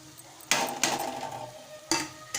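Coarse coconut paste being added to an elephant foot yam fry in a pan, with several sharp spoon-on-pan clangs and scrapes over a low sizzle, spaced irregularly and close up.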